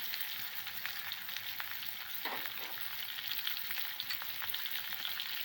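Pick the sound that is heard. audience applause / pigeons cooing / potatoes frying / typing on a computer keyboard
potatoes frying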